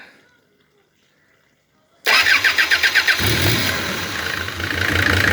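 A Mercedes OM602 2.9 diesel engine cranks with a rapid series of starter pulses after a brief silence, then catches and settles into a loud, steady running rumble.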